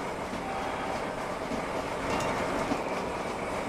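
A train rolls along in a Roblox video game, a steady broadband rumble and rushing noise that holds at an even level throughout, with no talking.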